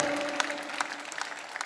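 Audience clapping at a Hindi poetry recitation by Hariom Pawar, a dense, steady patter of many hands with no voice over it.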